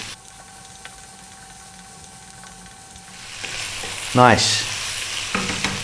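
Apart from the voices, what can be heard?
potatoes stir-fried on lively heat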